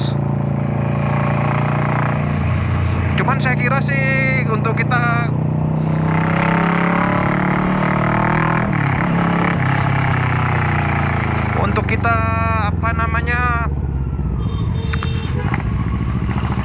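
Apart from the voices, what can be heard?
Kawasaki Versys 650 motorcycle engine with Two Brothers exhaust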